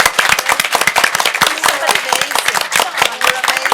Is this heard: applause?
yes